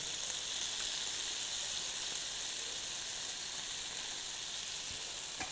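Sauce made of 18 spices poured over rice in a Merzifon, Amasya eatery, sizzling and hissing steadily close by in a bright, continuous crackle with no talk.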